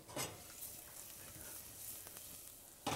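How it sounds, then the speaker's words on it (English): Four garlic cloves sizzle softly in olive oil in a pan, a steady faint frying hiss with a light stir or clink at the start and end. "4 cloves into the olive oil, just for a moment, just to soften. I hope you're getting that sizzle."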